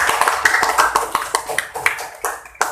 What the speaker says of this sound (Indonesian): Tepuk tangan buat Ludwig.